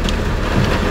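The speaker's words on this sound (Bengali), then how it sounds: "প্রচুর বৃষ্টি হচ্ছে, সাথে ছোট ছোট শিলার শব্দ পাওয়া যাচ্ছে," Heavy rain with small hailstones pours down during a 2024 hailstorm in Laksam, a dense, steady roar of hiss and patter with no voices.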